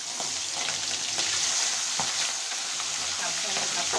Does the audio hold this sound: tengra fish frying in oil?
yes